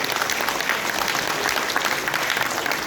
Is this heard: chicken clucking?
no